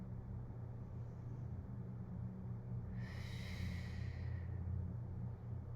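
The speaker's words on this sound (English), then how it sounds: "we're just gonna take 4 deep breaths here." During a stretch, a person folds forward with the head down by the feet and takes a deep breath. One long, close, airy breath swells midway through a quiet, rumbling background.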